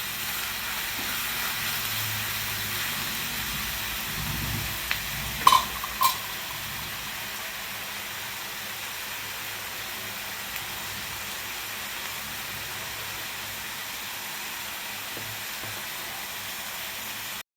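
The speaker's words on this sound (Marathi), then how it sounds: "मऊ होईपर्यंतच आपल्याला हा कांदा भाजून घ्यायचा आहे." Chopped onion sizzles in a hot pan as it fries until soft, a steady even crackling hiss throughout with a couple of brief clinks from stirring around the middle.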